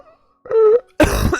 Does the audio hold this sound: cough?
yes